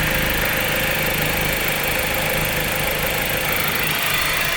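A 2017 Dodge Journey's 2.4L engine idles after a valve cover gasket replacement, a steady, even drone with a constant mechanical hum close to the microphone and no talk.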